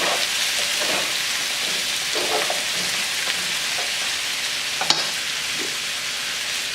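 Pork and frozen broccoli sizzle loudly in a hot pan as they are stirred, a continuous close crackle with scattered scraping and clinking, no one talking.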